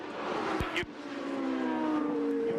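Champ Car race cars coming down the front straightaway during a 2007 race, a loud sustained engine roar with a sharp break and then rising pitch as the field sweeps past nearby.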